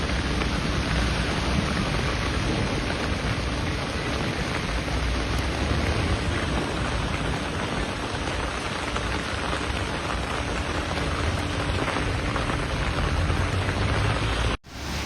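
Heavy storm rain pours steadily and loudly for the whole stretch, a dense wash of drops on surfaces with a deep rumbling undertone, no voices, cutting off abruptly at the end.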